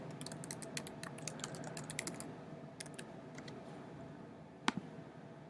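Password typed on a computer keyboard for a Blogger account, a quick run of key clicks in the first two seconds, a few more taps, then one louder keystroke near the end over a low room hum, with no talking.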